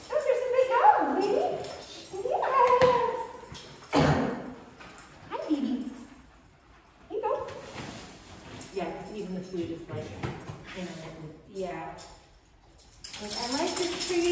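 Big dogs move around and whimper during a play and training session, making shuffling noises and soft whines under near-constant talking.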